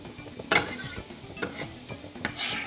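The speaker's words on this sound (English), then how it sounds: "I put in a little bit of olive oil to this, maybe a tablespoon or so, and in goes the lemongrass" Lemongrass dropped into a tablespoon of olive oil in a frying pan over medium heat, giving a soft sizzle with a few sharp scrapes and clinks of a utensil against the pan, close and fairly quiet.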